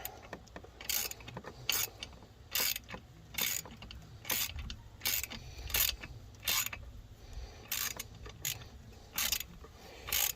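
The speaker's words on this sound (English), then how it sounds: "since that's in a hard to reach spot, let's put the little 1/4 inch ratchet on there" A small 1/4 inch ratchet clicks in a steady rhythm of short, sharp strokes while turning a bolt on an Echo CS-590 chainsaw muffler, close up and fairly quiet, with no talk.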